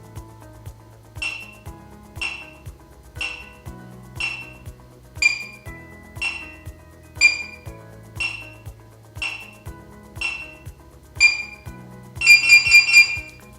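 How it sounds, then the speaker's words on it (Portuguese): A sports scoreboard timer gives eleven short, bright beeps at a steady one-per-second pace over a low hum during the final ten seconds, ending in a louder rapid burst of beeps. "nos últimos 10 segundos vai emitir o bip"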